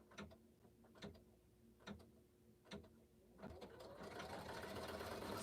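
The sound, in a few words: embroidery sewing machine doing a triple stitch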